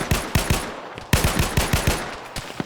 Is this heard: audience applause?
no